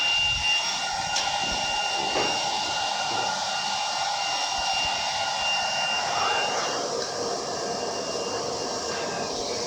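A factory machine cuts doll skin with a loud, steady whir and hiss that runs unbroken, its tone shifting slightly partway through, with faint clicks early on and no talking.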